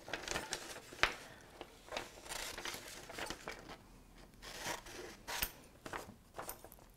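Scissors snip through a hand-drawn paper alligator coloured with markers, with a run of close, crisp cuts and paper crinkling, some sharper snips standing out, no talking.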